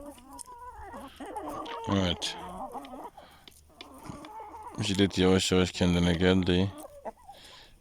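Aseel chickens cluck in a farmyard, roosters and hens together, with bursts of loud, harmonic squawking near the middle and again toward the end, while someone talks over them throughout.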